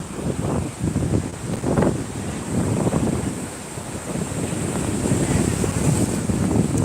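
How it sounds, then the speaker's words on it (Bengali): Sea waves washing in with the incoming tide at Shankarpur beach, repeated surges of surf breaking and rolling ashore, mixed with heavy wind buffeting the microphone. "দেখো এখন জোয়ার আসছে"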